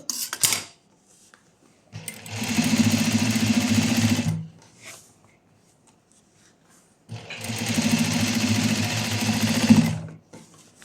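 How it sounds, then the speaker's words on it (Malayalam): A sewing machine stitches a seam on a pair of pants in two bursts of fast, steady, rhythmic whirring of about two seconds each, separated by pauses, loud and close, with no talking. "ഇതിൻ്റെ മുകളിൽ കൂടിയിട്ട് ഒന്നും കൂടി സ്റ്റിച്ചിട്ട് കൊടുക്കാം"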